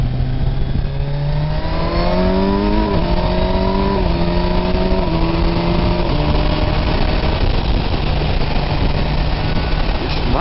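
A Kawasaki Versys 1000 SE motorcycle engine heard loud and close from the rider's position, dropping a gear with a brief pitch jump and then pulling steadily higher in revs under constant wind rush.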